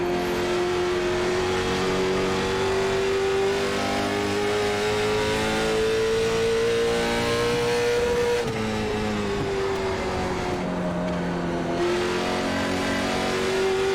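A Late Model Stock race car engine roars in the iRacing game at USA International Speedway, a loud, sustained drone from the cockpit with pitch rising steadily through the gears and briefly dropping as the throttle lifts.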